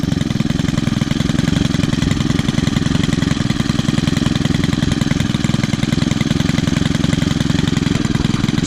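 An Echo or Stihl small two-stroke engine idles steadily up close, a loud, continuous buzzing putter with a fast, even pulse and no pauses.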